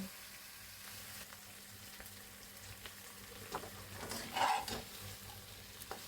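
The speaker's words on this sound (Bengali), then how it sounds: "আমি এটা 5 মিনিট ভাজা করে নিব।" Chicken frying in oil produces a soft, continuous sizzle with a few light stirring knocks, one slightly louder near the end.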